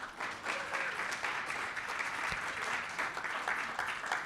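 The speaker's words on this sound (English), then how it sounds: "Let's give Neil and Sharon a round of applause" Audience applause for honorees Neil and Sharon at a VIP reception for Arizona leaders of the year, a steady, dense clapping from a sizable crowd that fills the whole stretch at an even level.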